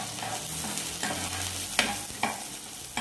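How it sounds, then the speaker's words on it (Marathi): Finely chopped onion and ginger sautéing in a little hot oil over high flame, a soft steady sizzle punctuated by periodic scraping stirs of the spatula, no talking. "2 लहान चमचे तेल गरम झाल्यावर आपण त्यात फोडणीसाठी ठेवलेला कांदा बारीक चिरलेला आणि आलं हे घालून ते परतणार आहोत।"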